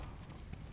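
Hooves of a pure Karabair horse clip-clop faintly in a quick, uneven patter over a short stretch, distant and low under a muffled background.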